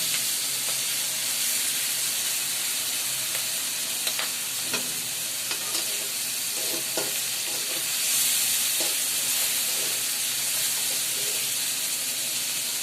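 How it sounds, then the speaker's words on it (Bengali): Boiled water lily stems (shapla) being fried and stirred in a pan, giving a steady sizzle and hiss with scattered stirring clicks and scrapes throughout, no talk. "শাপলা আগে সিদ্ধ করা হয়েছে এখন ভাজি করা হবে"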